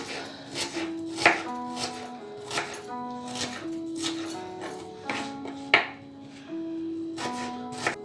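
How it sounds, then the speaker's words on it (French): Close, loud knife chops through an onion on a cutting board, coming in irregular bursts of sharp taps with short pauses between them, while steady tonal background music plays underneath. "on prend l'oignon comme ça. On le coupe."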